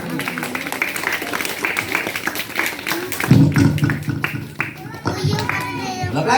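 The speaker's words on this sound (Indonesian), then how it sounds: "Tepuk tangan yang meriah." Elementary school students at SDN Sungai Bilu 3 clap during a clown and magic show, a dense, steady patter of hands that lasts throughout, mixed with children's chatter and voices.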